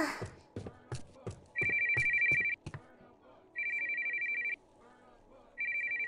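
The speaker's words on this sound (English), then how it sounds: "Are you really letting your phone ring in a library" A mobile phone ringtone rings in a quiet library in three loud, sustained electronic bursts that stand out against soft rhythmic taps and light room sounds.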